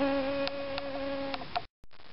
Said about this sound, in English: I can't keep up with that bee.